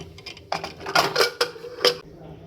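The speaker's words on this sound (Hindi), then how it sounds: "अभी मैं कुकर का ढक्कन लगा रही हूँ।" Pressure cooker lid clattering and clicking into place over khichdi dal and rice, a short run of close metallic knocks and scrapes, loud against a quiet kitchen.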